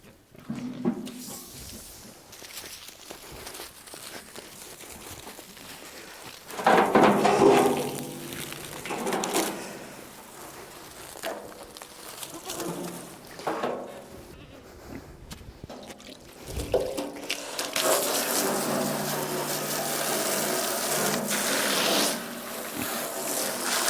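Water gushes into an old bathtub set up as a farm stock tank, a steady broadband rush that swells louder in the second half and runs on continuously outdoors.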